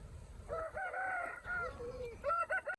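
A fighting rooster bred for cockfights in Andhra at Sankranthi crows loudly and close by, one drawn-out call followed by a few shorter broken notes.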